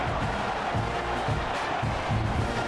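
A college football stadium crowd cheers at a Texas A&M versus Florida game, a dense, steady roar of many voices filling the whole stretch with no break.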